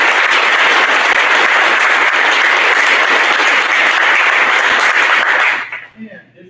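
An audience at a high school awards ceremony applauds an award winner: loud, sustained crowd clapping that fills the room, then tapers off and fades out near the end.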